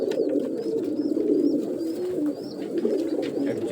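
Pigeons coo softly and repeatedly at close range, their low throaty calls overlapping in a steady murmur while faint higher chirps flicker above.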